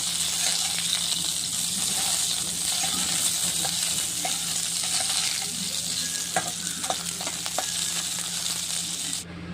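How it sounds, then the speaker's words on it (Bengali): Pieces of pointed gourd fry in oil in a pan, a loud, continuous close sizzle with occasional stirring clicks and no speech. "পটলগুলো আমার ভাজা ভাজা হয়ে গেছে।"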